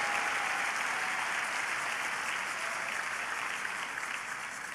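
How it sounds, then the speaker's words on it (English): A church congregation breaks into steady, loud applause that fills the room evenly from start to finish with no break, a dense wash of clapping hands. "Let's give the Lord a big round of applause for this"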